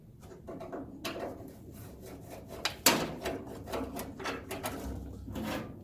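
Screws are backed out of the pump on an evaporative swamp cooler, close-up, with repeated scraping, ratcheting and rubbing strokes and a few sharper clicks.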